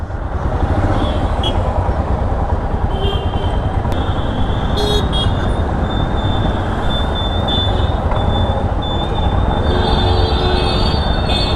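A metro train passes near Indiranagar metro station in the city, a loud sustained roar of wheels and rails with faint high squeal tones and traffic noise, no talking.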